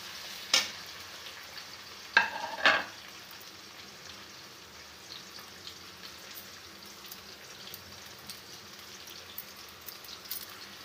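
Chopped onions fry in a little white oil while cooking homemade chicken chow mein. The sizzle is quiet and steady, broken by a few sharp clinks and scrapes of stirring.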